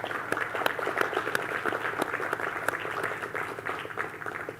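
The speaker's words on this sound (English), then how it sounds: "So a round of applause to the amazing young people who've put this together." Audience applause at the Sustainable Innovation Forum 2021 stage: a steady, dense patter of many hands clapping throughout, moderately distant and fairly soft, with no talk over it.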